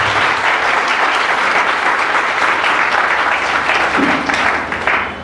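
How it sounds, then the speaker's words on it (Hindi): Dense, sustained applause from a large audience at an M.Sc. Zoology farewell party fills the room, loud and steady before tapering slightly at the end. "ताली बजा सकते हो।"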